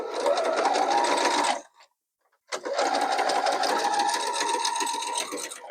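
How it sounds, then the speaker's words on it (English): A sewing machine stitches quilt block pieces along raw edges in two steady whirring runs, close and loud, separated by a brief pause. "we're going to line our raw edges up, and we're going to stitch them down on both sides"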